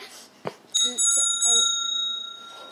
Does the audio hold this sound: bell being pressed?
yes